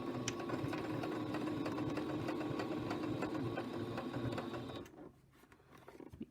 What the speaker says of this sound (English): I'm going to sew right along this line that I have marked.